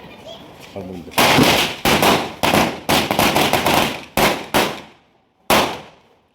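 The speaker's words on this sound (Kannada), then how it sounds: "ಪಟಾಕಿ ಹಚ್ಚಾತಾರ ರೀ" Loud, close Diwali firecrackers burst in rapid irregular volleys of sharp cracks, with voices faintly underneath and brief pauses toward the end.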